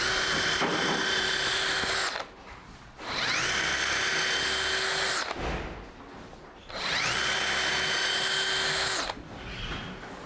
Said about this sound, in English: so that we can get the drill between the beams